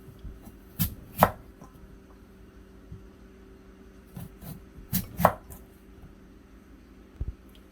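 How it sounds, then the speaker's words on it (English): A knife cuts russet potatoes into fries on a board, giving several sharp chopping knocks in small clusters against a low kitchen hum. "I'm literally going to cut them up"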